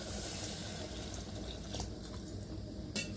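Water pours into a cooking pot for a village-style brinjal curry, a steady close splashing stream that runs throughout with a brief louder splash near the end.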